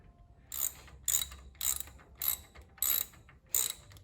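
Lock-washer bolts on an Oliver Super 55 rear main seal are snugged down with a ratchet: six crisp, evenly spaced clicking bursts, quiet and close, with no talking.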